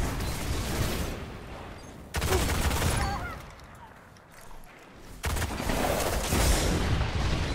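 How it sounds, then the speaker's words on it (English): Heavy machine gun fire in the video game Destiny during an Iron Banner match: dense bursts of rapid gunfire in long stretches, pausing briefly and then resuming, fairly loud, with a voice talking at times. "My heavy machine gun"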